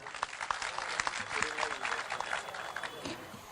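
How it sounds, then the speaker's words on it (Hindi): Audience at a mushaira poetry gathering in Malad breaking into applause, a thick, continuous patter of many hands clapping with scattered louder claps, moderately distant. "उनके लिए एक मरतबा ताली बजा दीजिए आप लोग"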